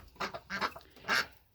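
A duck on a farm gives three short nasal quacks in quick succession, close by and fairly clear against a quiet background.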